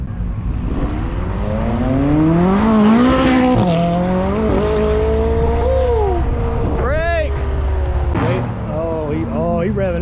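A powerful car engine revs hard and close, its pitch sweeping up and down through repeated bursts, while excited voices shout and cheer over it throughout.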